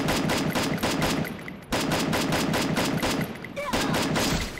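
Rapid automatic gunfire hitting an enemy in the mobile shooter Free Fire, a loud continuous rattle of closely spaced shots with one brief pause and a faint voice underneath.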